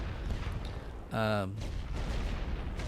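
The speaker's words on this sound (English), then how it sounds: "Watch your artillery fire before continuing." Artillery shells fire and land in a Great War tutorial video game, a rumbling barrage under a short, loud tonal burst, with a voice speaking nearby.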